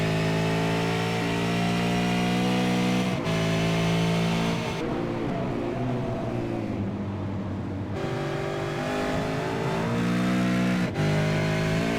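V8 race car in a V8SCOPS round at Donington Park Circuit accelerating out of Coppice, a loud steady engine roar rising in pitch across gear changes, with a brief dip mid-way as it passes and fades before returning strongly.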